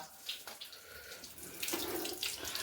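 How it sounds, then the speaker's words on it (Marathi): Water runs from a tap into a sink basin while rice is washed, a close splashing flow for a few seconds with no talk. "बेसिनमध्ये पाणी टाकतोय जे धुतलेले तांदळांचे"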